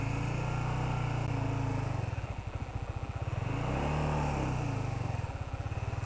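A 2016 Honda CBR150 sport motorcycle engine hums steadily and loudly up close, its pitch rising and falling as it throttles through a slow U-turn.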